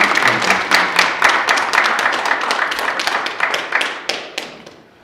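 Audience at a Korean church tree-planting symposium claps as a secretary general walks up, a dense burst of hand claps that thins out and fades toward the end.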